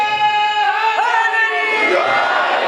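A dense crowd at a Muharram religious gathering in Chak 107 Janobi loudly chants religious slogans in unison, the massed voices rising and sustained throughout with no pause.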